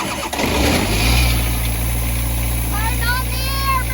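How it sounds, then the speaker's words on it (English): An air compressor powering up for slurry spreading on a farm, its motor kicking on with a short rough burst and then settling into a loud, steady near hum, while a voice speaks over it. "You mean the compressor, Katie?"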